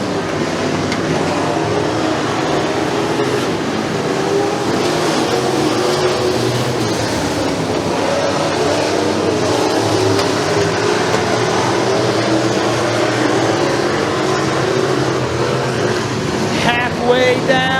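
Pure stock race cars circling the dirt oval at Bradford Speedway, engines droning steadily and loudly throughout as the pack runs the straights and corners, with an announcer's voice calling the race over the roar.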